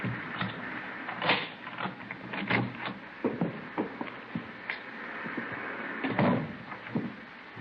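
In a radio drama, a key rattles in a front door lock and the door is pushed open, a string of small clicks, scrapes and knocks, close and fairly quiet.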